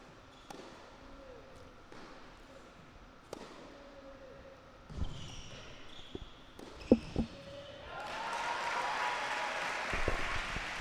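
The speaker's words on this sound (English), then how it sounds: "Big cheer from the crowd here." At a Davis Cup Asia Oceania Group III singles match between Kuwait and Singapore, a few ball bounces and taps are followed by a crowd breaking into sustained applause and cheering toward the end, moderately distant.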